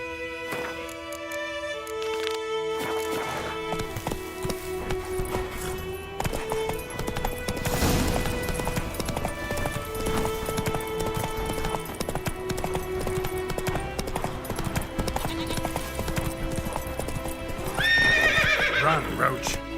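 Roach, the horse in The Witcher 3 video game, gallops with rhythmic hoofbeats and a loud whinny near the end, set over game music, with talk heard at points.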